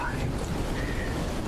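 Steady rain with a low thunder rumble in a dubbed movie scene, a constant wash of broadband noise at even loudness for the whole short stretch, with no talk over it.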